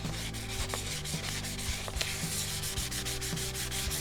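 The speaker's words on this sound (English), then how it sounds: "We're not going to scuff up the surface too much. We're just going to remove the sheen" A light switch plate surface gets lightly sanded by hand, with continuous close, rhythmic rubbing strokes that repeat evenly back and forth, no voices.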